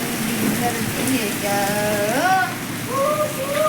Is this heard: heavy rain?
yes